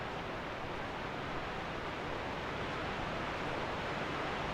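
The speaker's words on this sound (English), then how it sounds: "the sound of that waterfall is not great. It is loud" A waterfall in Dark Souls 2 roars as a dense, unbroken hiss of falling water, steady and fairly loud throughout with no variation or other sounds.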